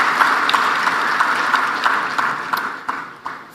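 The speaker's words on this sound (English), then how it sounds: "Can we give him a big round of applause?" Audience applause at an Africa heads-of-state energy summit in Tanzania, a dense, steady wash of many hands clapping that holds evenly throughout with a few sharper claps standing out.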